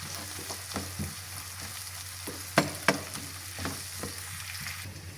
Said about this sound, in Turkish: Bir yemek kaşığı da domates salçası da kavrulsun.